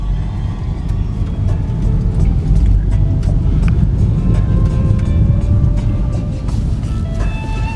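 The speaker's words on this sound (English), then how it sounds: "Now I'll go out here, I'll do just a little bit of a test drive to show you." A 2013 Chevy Equinox LS with a 2.4 engine, salvaged, low on coolant and with a damaged rim, is driven slowly on a short test drive. The road and engine rumble stays steady and close, with faint rattles throughout.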